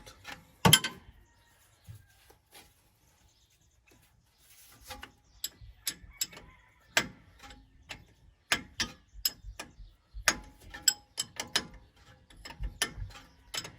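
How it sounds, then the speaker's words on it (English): A wrench ratchets and clicks while a bolt is loosened on the brakes of a Chevy 3500 Duramax diesel dually, sparse at first, then a busy run of sharp metallic ticks close up. "So I'm going to continue loosening this bolt."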